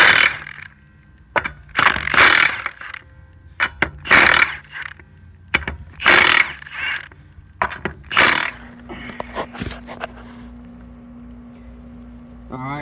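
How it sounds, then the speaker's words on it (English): A Milwaukee 1/2-inch impact wrench loosens 22 mm lug nuts on a 2009 Honda Odyssey, with several loud, rattling hammering bursts separated by short pauses, up close. "I'm gonna use my Milwaukee impact wrench, 1/2 inch. These lug nuts are 22mm."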